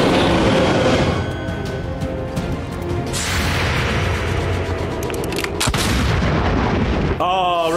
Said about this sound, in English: Red Baron missed with the pistol shot